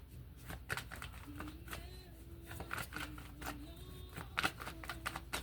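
Soft papery riffles and taps of tarot cards being shuffled, repeating irregularly at close range, with a faint tonal hum in the background.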